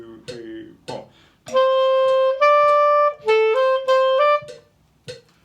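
Second clarinet part of a band phrase in bars 46 and 47, played as a short run of sustained, clear tones. A few brief bursts of talk come at the start and end.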